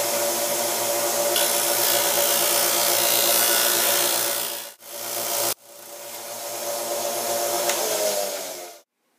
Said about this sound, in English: Next, we'll smooth each end of the piece of stock pipe we just cut.